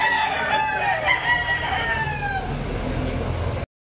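Roosters crow loudly and close at an outdoor poultry market in Lipa, Batangas, long drawn-out calls overlapping with clucking and a low background rumble before an abrupt cut to silence near the end.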